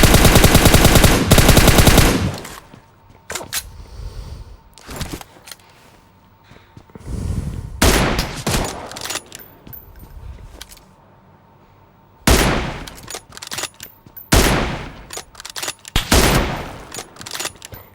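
Rapid bursts of gunfire ring out in PUBG Mobile during a solo-versus-squad match with an M24 sniper rifle, loud volleys alternating with quieter gaps and scattered single shots, with no talking.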